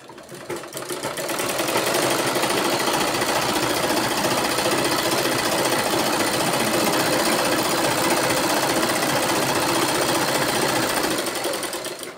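A sewing machine runs steadily while stitching a blouse, a loud, close, fast rhythmic mechanical chatter that ramps up and holds at a constant speed before easing off.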